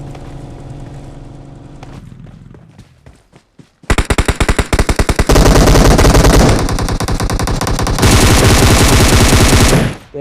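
Rapid automatic gunfire in the mobile battle royale game Battlegrounds Mobile India, loud sustained bursts of shots following a quieter stretch of game ambience, ending abruptly.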